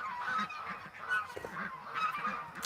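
Geese on a farm honking in a close, loud burst of repeated nasal calls, several birds overlapping over a few seconds.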